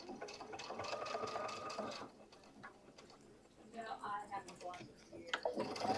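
A sewing machine stitches a zipper onto a fabric bag in short bursts of rapid mechanical whirring, close but quiet, with pauses between runs and voices talking over it.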